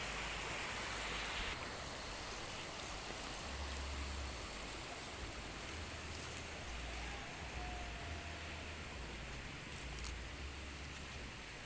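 Water of the Ciliwung river flows around a small delta split between two channels, a constant broadband rushing close by and steady in level, with a brief faint tap near the end.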